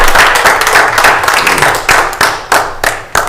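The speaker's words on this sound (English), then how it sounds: "A round of applause for Council President Nancy Fellows." A crowd at a county commissioners meeting claps in sustained applause, loud and close, with a few sharp individual claps standing out as it thins toward the end.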